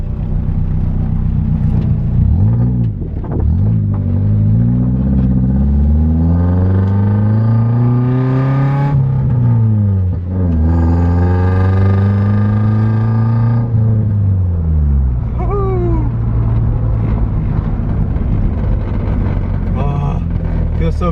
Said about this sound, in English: Feels so good to be driving this car again